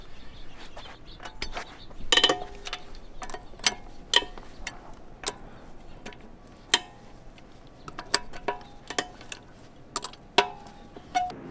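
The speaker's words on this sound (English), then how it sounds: "I'm using just regular breaker bar and 22 millimeter socket." Breaker bar with a 22 mm socket loosening lug nuts on a Range Rover LR4 before a front brake job, a series of sharp metallic clicks and ratcheting ticks, irregular and close, with quiet gaps between.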